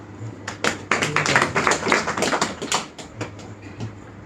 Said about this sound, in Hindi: ताली बजाओ इसको